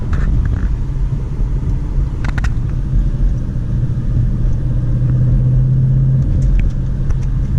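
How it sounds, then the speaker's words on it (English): Manual-transmission car engine running steadily around 2,500 to 3,000 RPM while shifting into third gear, a loud continuous low rumble and drone heard from inside the car, with a brief click near the middle and no talking. "So I can go ahead and switch to third gear now."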